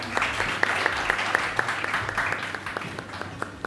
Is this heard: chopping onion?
no